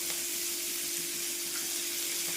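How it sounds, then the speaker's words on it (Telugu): Four green chillies dropped into a hot pan, giving a loud, steady hiss of frying oil that holds unbroken throughout with a faint hum underneath. "ఇప్పుడు ఇందులోనే ఒక 4 పచ్చిమిర్చి వేస్తున్నాను."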